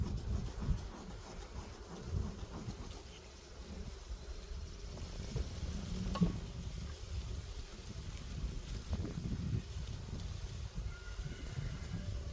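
Many honey bees buzzing close by during a hive inspection, in a continuous, wavering drone, with occasional rustling and a faint brief knock partway through.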